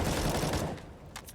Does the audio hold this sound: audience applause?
no